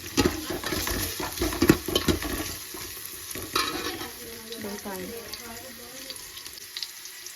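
Spices crackle and sizzle in hot oil in a pan in a home kitchen, with stirring and scraping, loud at first and then settling into softer frying.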